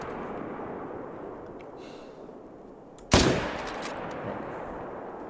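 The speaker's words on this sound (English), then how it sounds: "I'm gonna take a shot." A single loud rifle shot rings out against a steady wind-like outdoor ambience while hunting a wolf in a video game, followed by a brief decaying echo; no talk.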